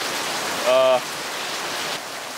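Steady rain falling outdoors on a gray day during a motorcycle ride, a broad even hiss of moderate loudness, briefly overlapped by a short tonal sound near the start.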